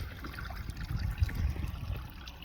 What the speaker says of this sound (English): that's the rainwater coming out